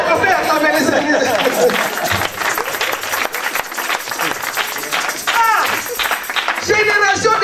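A church congregation applauds and cheers in a steady, dense wash of clapping and crowd noise lasting throughout, with a voice carrying over the top.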